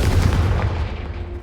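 A Confringo blasting curse explodes in Hogwarts Legacy: one close, heavy boom with a rumbling low end that rings out and decays over about a second, with no voices.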